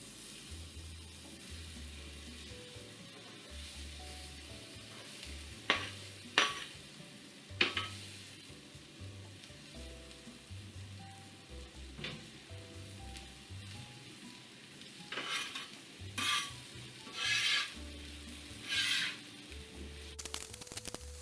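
Onions fry in a pan for a German potato salad, a quiet sizzle under repeated stirring with several sharp clinks and scrapes of a utensil against the pan.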